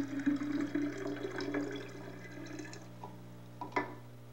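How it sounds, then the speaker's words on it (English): Developing fluid pours out of a light-proof film tank, then rinse water runs, giving a faint, close trickle and splash with a brief gurgle near the end. "Then I pour off the developing fluid."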